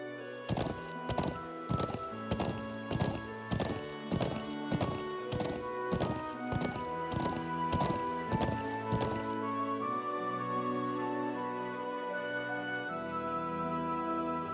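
Horse hooves clop in the video game Trails of Cold Steel, with a steady, even run of hoofbeats over soft tonal music that stops about two thirds through. The music carries on alone after that.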